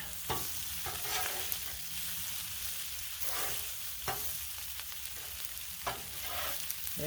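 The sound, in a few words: stirring Cajun fried rice on a Blackstone griddle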